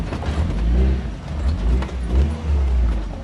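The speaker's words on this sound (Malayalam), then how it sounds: "അപ്പോൾ നമ്മൾ പയ്യെ വണ്ടി ഇങ്ങോട്ടേക്ക് കയറ്റി പാർക്ക് ചെയ്യട്ടെ" A car engine hums low and steady as the vehicle is driven slowly up to a house and parked, with gentle swells in engine note and no talking.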